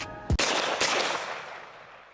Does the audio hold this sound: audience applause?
no